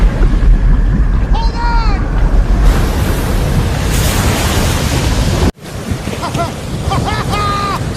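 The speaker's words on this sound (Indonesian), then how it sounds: "Chuck mulai mendayung mengarungi lautan, menerjang ombak-ombak yang datang" Ocean waves crash and surge steadily around a raft paddled out to sea in Cast Away, with strong wind buffeting the microphone and a brief dropout midway before the surf resumes.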